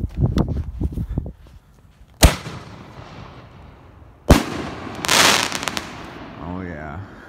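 Dominator G.O.A.T. firework shells, red dahlia and silver chrysanthemum, go off outdoors: two sharp, loud booming bursts a couple of seconds apart, each followed by a crackling, hissing break and fading rumble. Someone talks briefly at the start.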